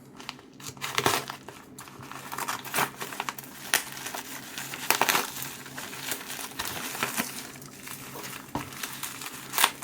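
A parcel holding a silver bullion coin is unwrapped up close, with steady crinkling and tearing of paper and plastic packing and a few sharper crackles, no talking.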